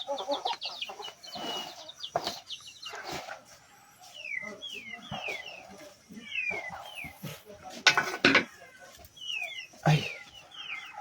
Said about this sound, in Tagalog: Ang dami ba talagang manok dito sa amin?